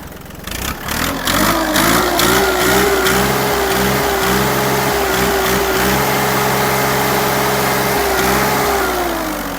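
Loud, close exhaust of an Iseki TU-217 Japanese mini tractor engine as it revs up and holds at high speed, a steady throbbing roar throughout.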